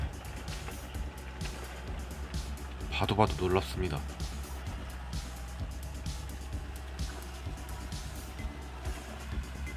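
A tractor engine rumbles steadily with a throbbing low drone throughout while tilling garden soil, and a person speaks briefly over it.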